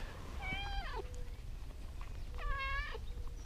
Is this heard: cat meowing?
yes